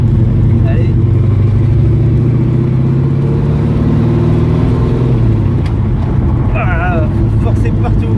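Loud, close V8 engine drone of a 450-horsepower 1967 Shelby GT500 tribute with manual gearbox, pitch rising and falling as it accelerates, a deep continuous roar throughout.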